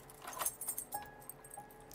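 Keys jangling as a set of keys is tried on a door in the fan-made Halloween video game, a burst of metallic rattles up front followed by a few lighter clinks.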